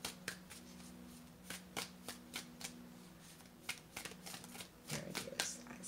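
A deck of tarot cards is shuffled up close, with repeated quick riffles and soft flicks in an irregular rhythm. The sound is quiet and heard on its own, with no talking.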